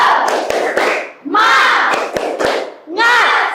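A fourth-grade class in Indonesia performs a rhythmic spirit clap, sharp unison hand claps punctuating loud group shouts of a chant, repeated in quick bursts close by.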